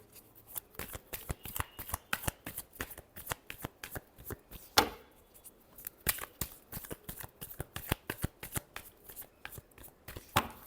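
Tarot cards shuffled by hand during a reading, a long run of quick, crisp riffling snaps and flutters in uneven bursts, close and alone with no talking.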